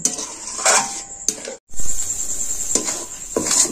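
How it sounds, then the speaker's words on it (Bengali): A spoon scraping and stirring a gourd sandesh mixture in a kadai, with a few close, distinct metallic clinks and scrapes against the pan over a steady high hiss of cooking. "দেখুন এই যে কড়া থেকে নাড়ছি"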